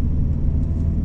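Deep, steady exhaust rumble from a Subaru Legacy GT fitted with a boost-controlled Loud Valve, loud and continuous through a brief stretch.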